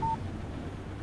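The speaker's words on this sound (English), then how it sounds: "Text message from Barry." A phone text message alert in the game Alan Wake: one short electronic beep at the very start, followed by quiet low background rumble.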